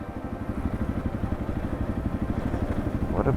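Motorcycle engine idling in Thailand, a close, loud, steady chugging pulse throughout with a brief clatter near the end.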